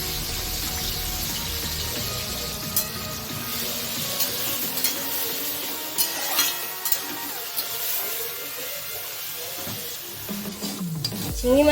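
Prawns frying in hot oil in a pan for a Bengali onion prawn curry, a steady close sizzle and crackle running throughout with occasional stirring scrapes.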